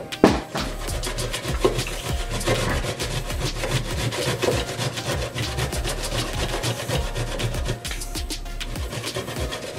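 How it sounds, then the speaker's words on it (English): Pumpkin grated by hand for a breadfruit and pigtail oil down, a steady run of rough scraping strokes close up, continuous and fairly loud with brief pauses, no talking. "so I'm going to grate the pumpkin."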